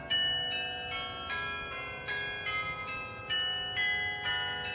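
The Netherlands Carillon in Arlington rings out in a steady sequence of clear, resonant notes from a steel tower, each strike ringing on and overlapping the next.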